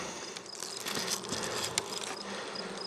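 Honeybees buzzing thickly over the top of a frame in an opened nuc box, a steady close swarm drone with scattered individual bees flicking past, no voices.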